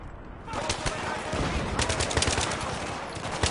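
Rapid automatic gunfire in Battlefield 3, a dense volley of cracking shots that starts abruptly and keeps rattling for several seconds, loud and close amid combat noise.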